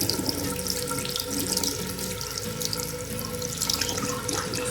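A steady stream of water pours and splashes onto a Realme Note 60 phone, a continuous close hiss and patter like a running tap, with no voices.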